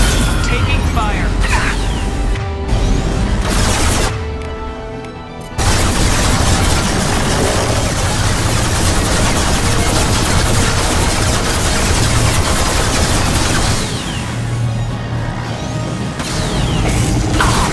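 Loud, sustained combat gunfire in Mass Effect 2 against a hostile combat platform, with crashes and booms layered throughout. A brief lull breaks it early on, and voices speak amid the shooting.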